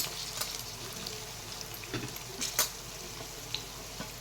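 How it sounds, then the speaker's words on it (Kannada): Onions fry in a pan for lemon rice, a faint, steady sizzle with a few soft clinks and stirring taps, heard alone at low volume. "ಈರುಳ್ಳಿ ಹಾಕ್ಕೊಂಡು ಚೆನ್ನಾಗಿ ಫ್ರೈ ಮಾಡ್ಕೋಬೇಕು."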